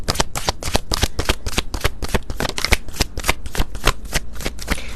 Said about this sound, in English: I'm gonna get a couple more cards out here for the collective.